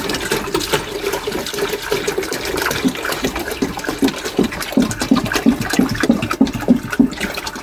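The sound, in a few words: toilet flushing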